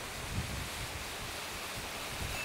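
Steady wind gusting across an outdoor mini golf course, a continuous broadband rush with low buffeting on the microphone and no voices.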